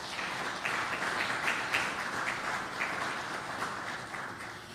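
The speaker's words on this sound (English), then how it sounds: "Please give Seychelles a big round of applause." Even, sustained applause from a forum audience at a fisheries transparency report launch, a wash of many hands clapping heard at a distance without speech.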